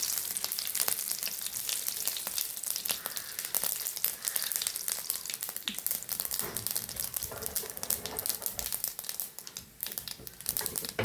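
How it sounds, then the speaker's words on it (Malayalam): Mustard seeds, green chilies and curry leaves fry in hot oil, giving a loud, steady crackling sizzle with sharp pops and spatters throughout, close up and with no voices. "എണ്ണ ചൂടെ കടുകിടുവാണ്. പച്ചമുളകും കറിവേപ്പില, നമ്മൾ ഇട്ട കറിവേപ്പില ഇട്ടതാണ്."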